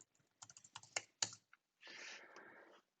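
Keys clattering on a computer keyboard as a search is typed in a browser, a quick burst of separate close clicks followed by a short soft rushing sweep, quiet and heard alone.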